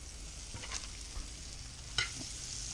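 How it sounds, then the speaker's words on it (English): Butter sizzling in a hot pan while cooking sausage and biscuits: a steady close hiss with a few soft pops and utensil taps, no talking. "Now add in a little bit of butter."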